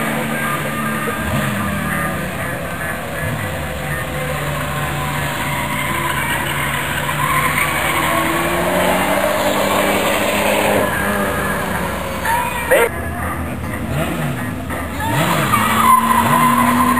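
Stock race cars roar down the back straightaway at Flamboro, a dense, continuous engine howl with rising and falling pitch sweeps as the cars pass close and loud.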